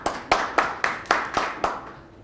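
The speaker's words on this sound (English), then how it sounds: "Did I get that a round of applause for standing up, or did you?" Hands clap seven times at a meeting in a steady, evenly spaced rhythm, each sharp clap standing out clearly and close with a short ring after it, tapering off at the end.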